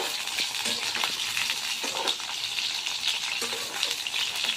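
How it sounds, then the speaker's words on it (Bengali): Pieces of pointed gourd (potol) fry in oil in a wok until brown, with a dense, even sizzle and occasional soft stirring scrapes close by. "পটলগুলো ব্রাউন করে একটু ভেজে নেব।"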